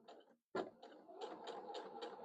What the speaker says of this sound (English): I'm going to continue sewing down this side